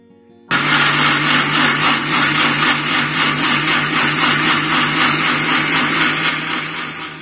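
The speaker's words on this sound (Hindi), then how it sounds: "अब तरबूज को हम ग्राइंड कर लेते हैं।" A kitchen mixer grinder switches on abruptly and runs with a loud, steady whir and slight pulsing churn of blending watermelon for juice, no talking.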